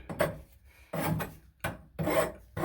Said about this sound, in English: Now I'm just going to go with a file and deburr the two bottom ones and then the two top.